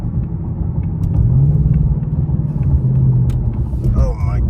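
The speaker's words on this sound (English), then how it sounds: "you can hear the engine inside the car" A 2025 Ford Mustang GT engine drones steadily from inside the cabin at highway speed, a low rumble with a rising tone, while a person talks over it.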